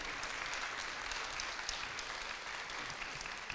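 Theatre audience applauding, a dense steady wash of many hands clapping at a fairly quiet, distant level throughout, with no voices on top.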